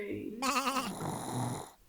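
A single wavering sheep bleat rings out during a Christmas nativity show, lasting about half a second, then fading into a softer, breathy murmur of background sound.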